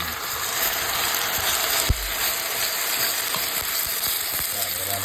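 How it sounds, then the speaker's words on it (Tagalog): Chicken sautéing in a pan for an Ilocano-style dish, a steady loud sizzle and frying hiss throughout, with occasional stirring clicks and scrapes close by. "Wow, igigisa natin yung chicken."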